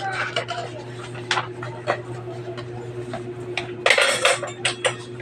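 Spoon and ladle clinking as they are set on and lifted from a weighing scale, a few light metallic clicks and clatters, louder near the end, over a steady low hum.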